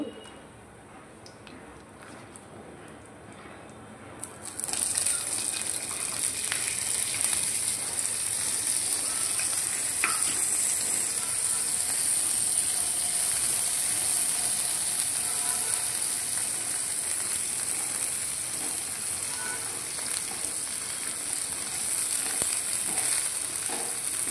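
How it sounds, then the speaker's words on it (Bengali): Prawns hit hot oil in a pan and set off a loud, steady sizzle after a few seconds of quiet, then keep hissing close and even for about twenty seconds, with occasional faint clicks and no speech. "এদিকে চিংড়ি মাছগুলো একটু ভেজে নেব"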